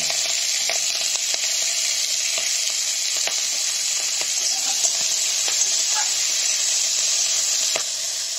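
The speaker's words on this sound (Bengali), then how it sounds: "কড়াইতে আমি তেল গরম করে কেটে রাখা পেঁয়াজ কুচি, কাঁচা লঙ্কা কুচি, পেঁয়াজগুলি কুচি সব দিয়ে একবার ভেজে নেব।" Chopped onion and green chilli fry in hot oil in a wok, a loud continuous bright sizzle with occasional soft taps and stirring scrapes, no voices.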